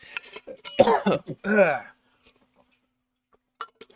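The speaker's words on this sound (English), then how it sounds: "I'm about to cough, so I'm gonna take some water real quick" A person coughs and clears their throat, followed by a few short gulps or sips of water at close range, then near silence with a faint clink at the end.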